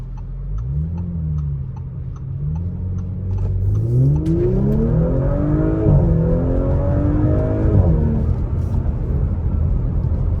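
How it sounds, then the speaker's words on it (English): A turbocharged Audi, a 2019 S5 or 2020 A5, accelerates hard from a low drone into a rising, climbing engine note heard from inside the car, with faint ticking in the background. "The acceleration, once you get into that turbo range, is explosive."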